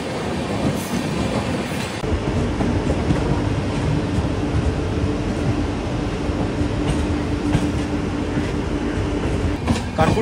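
The New Delhi to Puri Purushottam Express (12802) runs along the line with a continuous, heavy rumble of wheels and coaches, sprinkled with faint clatter and the odd metallic squeal.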